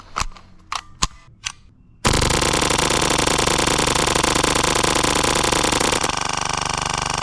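An airsoft gun emptying a full magazine on full auto: a few sharp single snaps, then a dense, loud, unbroken burst of rapid fire lasting about four seconds before a brief mechanical tail.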